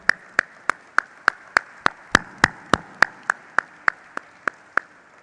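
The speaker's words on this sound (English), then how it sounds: "So big round of applause for them, please" At a company stock listing ceremony, a single person claps steadily and close, about three sharp claps per second in an even rhythm, with little crowd sound behind.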